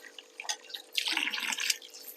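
Water splashes and trickles as ragi (finger millet) grains are washed by hand in a bowl, a few light drips at first, then a denser burst of sloshing and pouring in the middle before it eases off.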